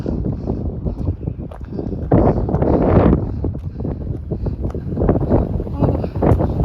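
Wind rushes over a mountain at a cable car stop near a ski area, loud and steady, buffeting the microphone with gusty swells.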